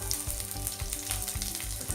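Small shallots sizzle steadily in hot oil with mustard seeds, with crackling spatters and soft stirring scrapes, close and continuous with no voices.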